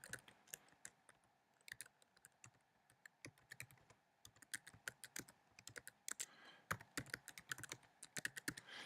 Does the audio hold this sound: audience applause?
no